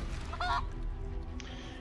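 An enemy in Divinity Original Sin 2 is turned into a chicken, giving a short burst of honking, clucking fowl noise over steady game ambience, followed by a fainter squawk.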